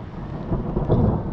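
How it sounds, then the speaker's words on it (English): Low thunder rumbles and swells from an approaching storm over open mountain terrain in Norway, a deep continuous roll building louder over about a second. "storm is coming."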